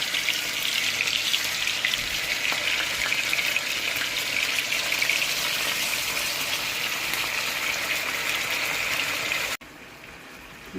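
Pork steak (bistek Tagalog) fries in a pan with a steady, loud, close sizzle that runs unbroken, then cuts off abruptly near the end.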